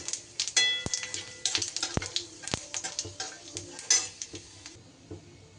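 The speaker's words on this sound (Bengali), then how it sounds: "এখানে আমি 5 ফোড়ন আর একটা শুকনো লঙ্কা ফোড়ন দিলাম।" Panch phoron spices and a dried red chilli dropped into hot oil in a wok, with a scattered crackle and irregular clinks of a utensil against metal, close and fairly quiet, no talking.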